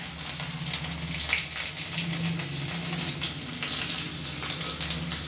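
Panch phoron spices, garlic and ginger frying in hot oil in a home kitchen pan, a steady close crackling sizzle with scattered pops running continuously, no talking.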